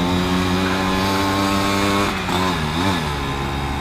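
A motorcycle engine fitted with an aftermarket exhaust runs close by, with a steady, droning idle and a brief blip of revs partway through.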